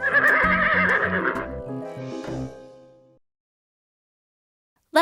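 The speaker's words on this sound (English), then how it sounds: "This is a horse." A horse neighs loudly and close in a shaky whinny that trails off into a snort, then silence, with a short sound at the very end.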